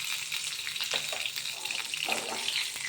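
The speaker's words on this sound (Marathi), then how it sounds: "वांग्यावर मी फ्राय होताना थोडंसं मीठ घालून घेते" Steady close sizzle of eggplant (brinjal) frying in hot oil, a continuous bright crackling hiss with small spitting pops throughout.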